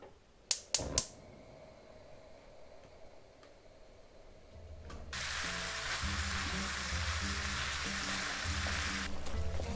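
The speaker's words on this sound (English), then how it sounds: "So you want to break up the meat as you're sauteing it." Ground beef sautéing in a deep saucepan starts with a few sharp clatters, then builds into a steady, loud sizzle that continues close and unbroken, with no talking.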